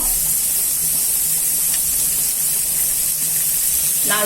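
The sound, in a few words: sautéing chillies and garlic in a pan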